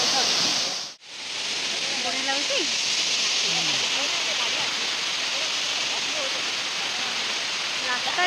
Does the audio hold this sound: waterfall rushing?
yes